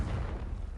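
Confringo, an explosive spell in Hogwarts Legacy, bursts as a short, loud, deep boom that fills the whole moment, with no talking over it.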